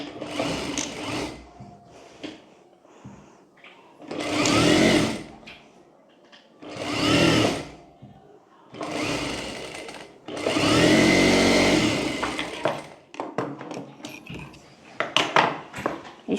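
A sewing machine stitches a sleeve onto a kurti in four loud, close bursts of rapid whirring, separated by short pauses with handling noise, and light clicking toward the end.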